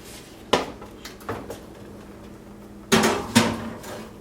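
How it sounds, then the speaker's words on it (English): A cast iron skillet holding a Spanish potato omelet goes into an oven, with a sharp metallic clank, a few lighter knocks and rattles, then two louder bangs of the pan and oven rack near the end. "Now it's time to put our cast iron skillet in the oven for 20 minutes at"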